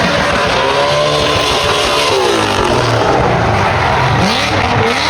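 Loud, close roar of a drag car with a Whipple-supercharged Coyote engine of around 950 horsepower, spinning its tires at a drag strip, with a rising and falling engine whine and tire squeal throughout.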